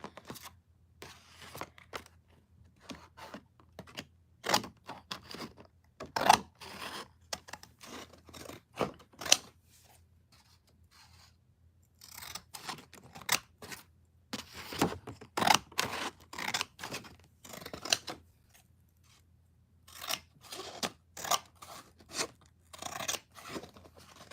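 Scissors snipping through card, a run of crisp close-up cuts in uneven clusters with quiet gaps between them.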